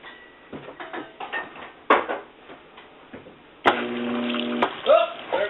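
A faulty washing machine runs with uneven clunks and knocks, then a steady hum with water rushing in as it begins to fill, close and fairly loud.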